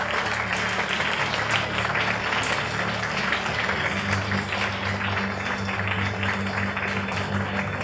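Ceremony audience applauding after a countdown and congratulations, a steady, dense wash of clapping with a low hum or music bed beneath, filling the whole stretch at even loudness.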